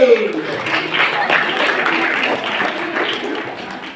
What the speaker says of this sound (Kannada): ಅಭಿನಂದನೆಯ ಚಪ್ಪಾಳೆ.